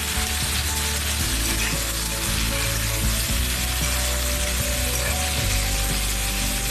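Young fiddlehead fern tips fry in a pan with potato and chickpeas, giving a steady, loud sizzle throughout with intermittent scraping and stirring clatter from the utensil.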